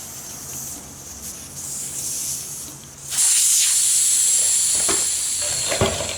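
Air hisses steadily from a four-wheeler tire as the valve stem core is pulled, a loud close rush that swells sharply partway through and keeps blowing without any talk.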